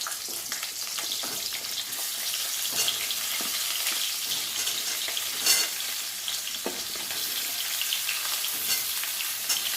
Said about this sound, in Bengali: এই তেলের মধ্যে এবার পটলগুলো দিয়ে দেবো